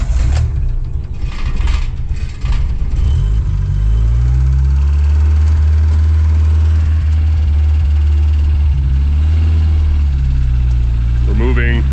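A 1980s Dodge Charger with a 2.2 engine idles fast in a steady, close, low mechanical drone that holds throughout, with slight shifts in pitch near the start and end.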